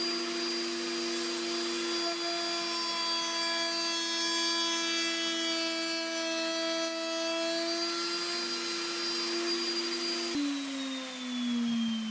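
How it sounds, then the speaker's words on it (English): A bandsaw cuts the rough shape of a wooden sword pommel from cherry and walnut, giving a loud, steady whining drone with cutting noise that holds, then the motor pitch drops as it winds down near the end. "I use a bandsaw to cut the rough shape of the pommel"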